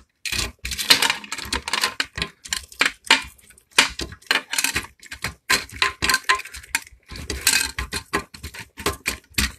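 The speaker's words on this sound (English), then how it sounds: "One of these keys is going to open this." Metal keys jangling and clicking against a display case lock at a shop selling singing bowls and Hindu items, a rapid irregular series of bright clinks and rattles, close and loud, with brief pauses.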